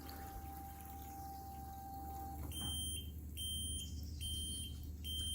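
Short, high electronic beeps repeat a few times over a steady pump hum as a Tera Pump TRHA03 fuel transfer pump shuts off.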